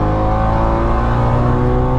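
Ford Mustang driving on a race track, a loud, steady, deep engine drone with strong harmonics held throughout, close and constant.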